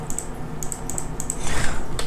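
Rapid, irregular clicks of keys on a Razer BlackWidow computer keyboard, close and fairly crisp, with a short flurry of faster keystrokes toward the end.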